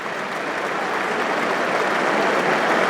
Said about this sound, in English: Everyone on their feet applauding